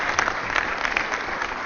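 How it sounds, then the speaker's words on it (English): A crowd at a mayor's press conference for an MLK Day of Service event applauds, a dense, loud, steady patter of many hands clapping, close and continuous throughout. "may I actually just ask you to give my brother David Brown a good round of applause for being such a great MC."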